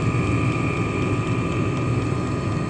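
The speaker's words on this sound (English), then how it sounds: "quick little video of my Chinese diesel heater. It's a Vevor 5 kilowatt" A Vevor 5 kW Chinese diesel heater with an exhaust flange runs off a fuel tank and gives a steady, loud broadband roar with a constant whine, no pauses and no voices.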